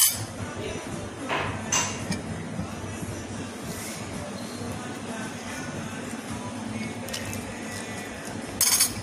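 A spoon stirs Assam Majesty Blend tea in a cup, giving light clinks and scraping taps over a steady low café background hum, with a louder clink near the end.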